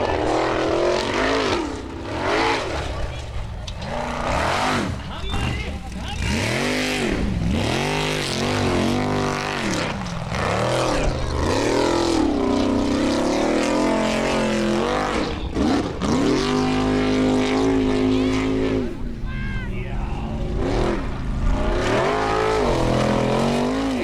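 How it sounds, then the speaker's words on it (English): Formula offroad trucks race in Iceland at Hella, engines revving hard and repeatedly rising and falling in pitch as they accelerate and climb, loud and continuous, with a commentator's voice faintly underneath. "if you want a lesson in how to drive these trucks quickly, look no further than Ólafur Bragi Jónsson in the Fox."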